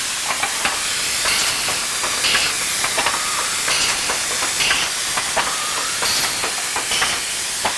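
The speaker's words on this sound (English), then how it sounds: "You probably hear a little bit of air bleed as well." Steady hiss of air bleeding from a semi-automatic cartoner packaging machine over continuous machinery clatter and faint ticking, close and constant throughout.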